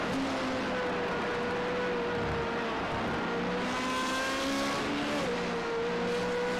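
Formula Renault 3.5 race car with a 3.5-litre V8 screaming at Spa-Francorchamps, a loud continuous high-revving engine note with rising pitch sweeps through gear changes, steady and close throughout.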